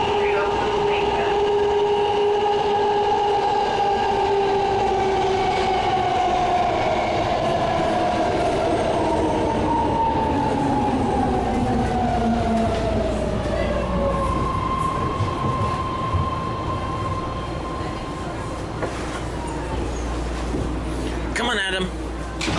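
A BART train decelerates into 19th Street Oakland Station, its motor whine gliding downward over a loud rumble before settling near a stop, with a squeal at the end.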